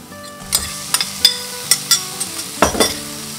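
Tofu stir-fries with chili powder in a pan, a sizzle under a series of sharp spatula scrapes and clinks against the metal, close and fairly loud, with no voices.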